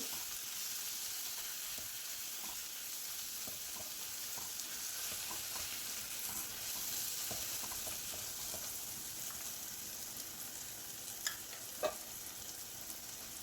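Coriander powder is stirred and fried in a pan for a chickpea masala roast, a soft continuous sizzle and hiss with faint scraping stirs, fairly quiet and steady.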